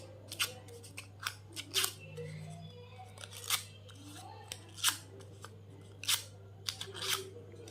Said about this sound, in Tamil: சிசர் எடுத்துகிட்டு இந்த மாதிரி பண்ணுங்கள்.